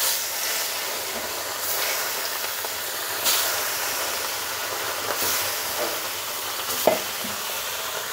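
Pieces of fish coated in turmeric slide into hot oil, setting off a steady close sizzle and hiss with a few sharper spits and crackles as they settle and fry.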